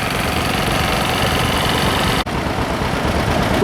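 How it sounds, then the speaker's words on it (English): A vintage John Deere tractor engine runs loud and close at a steady idle-like chug during an arena parade at an autumn agricultural show, with a momentary dropout partway through. "The Deere's engine, I think."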